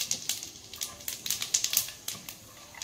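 Two dried red chillies, half a spoon of cumin and garam masala crackle in hot oil as a tempering, a quiet run of sharp irregular pops and spits over a soft sizzle, with no talking.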